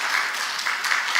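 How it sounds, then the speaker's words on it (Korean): A church revival congregation claps for its worship leaders, a steady, dense wash of applause filling the room throughout. "우리 박수 좀 한번 해요"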